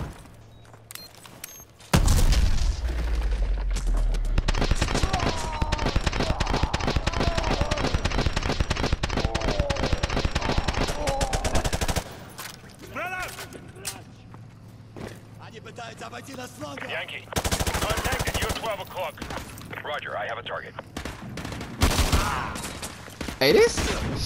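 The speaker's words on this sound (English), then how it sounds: "this shotgun is ridiculous" Rapid, dense shotgun gunfire from the game Modern Warfare 2 Remastered: a long close, loud stretch of shots followed by scattered blasts and game noise, with voices talking intermittently.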